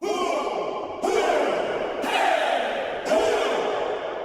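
A group of voices shouts together in four bursts about a second apart, each wash of sound trailing into roomy echo.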